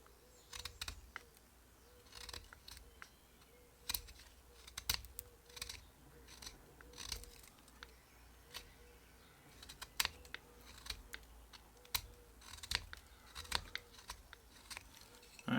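A knife trims wood piece by piece while carving a wand, giving faint, close, irregular short scraping clicks and shaving strokes at an uneven pace.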